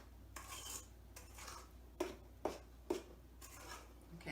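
A utensil stirs brownie batter in a bowl, giving soft repeated scraping strokes and a few sharp taps against the side, quiet and close.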